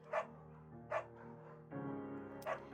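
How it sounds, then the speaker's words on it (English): A scruffy, undersized beagle in the Firewatch video game gives three short yips or barks spaced about a second apart, close and clear over a steady low musical tone. "There's a scruffy, undersized beagle."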